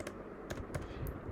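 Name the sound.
typing Java code on a computer keyboard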